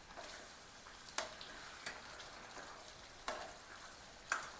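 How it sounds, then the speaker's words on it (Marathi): Mutton frying as it is stirred into a spice masala ground on a stone slab, a faint, steady sizzle broken by a few sharp scrapes and taps of the spoon against the pan. "आता याच्यामध्ये मटण टाकायचं। मटणाला मसाल्यामध्ये मिक्स करून घ्यायचं।"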